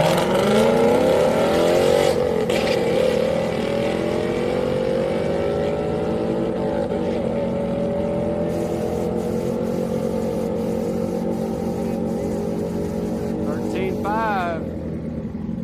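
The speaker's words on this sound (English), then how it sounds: "cab in the left lane versus Mustang here in the right lane" Drag race at Houston Raceway Park between a cab and a Ford Mustang, with loud, close engines roaring and rising in pitch through hard acceleration, then a gear change and a fading run near the end.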